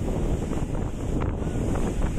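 A speedboat heading out to sea toward a grouper fishing spot, a constant loud roar of wind and rushing water with no break, close to the microphone.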